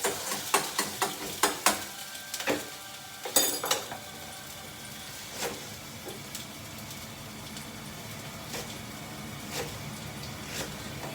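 A spoon stirs food in a pan while cooking a Japanese dish with kimchi, scraping and clinking in irregular strokes over a faint continuous sizzle, fairly quiet and close.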